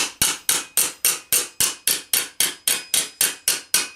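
A hammer strikes metal armour to form a crease, fourteen sharp, evenly spaced ringing blows about every quarter second, each decaying quickly, close and loud with no talk.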